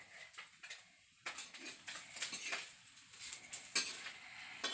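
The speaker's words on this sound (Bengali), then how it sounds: "ভাত চেপে গেছে, কড়াইতে মাছ ভাজা হচ্ছে।" Small fish frying in a wok over a home village stove, a soft crackling sizzle punctuated by clinks and scrapes of a utensil against the pan, fairly quiet and close.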